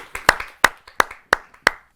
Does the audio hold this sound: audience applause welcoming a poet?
yes